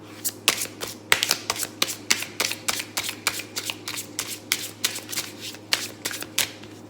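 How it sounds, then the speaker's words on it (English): Cards are shuffled in quick repeated riffles, a crisp flutter of bursts at an even rhythm, close and clear with no talking. "Shuffle harder."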